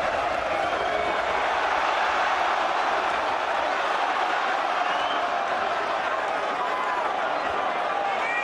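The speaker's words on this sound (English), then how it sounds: "Thunderous noise reverberating" Boxing arena crowd roaring during a world title fight, a dense, steady, loud wall of noise that holds without a break, with no distinct voices standing out.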